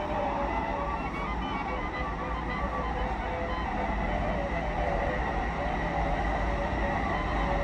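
A Warsaw Metro train runs underground, a loud steady rumble and rolling roar inside an open-gangway carriage, continuous throughout with no talk.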